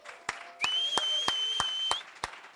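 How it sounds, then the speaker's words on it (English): Sparse, widely spaced claps from a small audience at a demo day gathering, a few sharp hand claps over a sustained whistling tone. "I would love to start with please a warm applause for Timur for all the hard work he's been doing"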